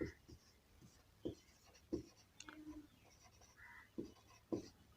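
Chalk or a marker taps and scratches across a board during a maths lesson. The strokes are short, faint and irregular, with a soft murmur of voice in the background.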